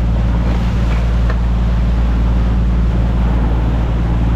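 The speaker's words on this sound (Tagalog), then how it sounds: "ang lakas ng tubig" Strong rushing water surges around a boat, a loud, steady roar with deep low rumble and wind buffeting the microphone, continuous throughout with no voices.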